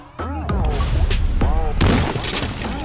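Firecrackers exploding at a celebration, several sharp bangs and booms in quick succession, some with whistling streaks, loud and close.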